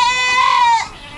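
A single goat on a farm lets out one loud, close, wavering bleat lasting under a second.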